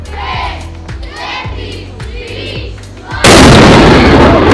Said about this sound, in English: Coming to hear the cannon go off at noon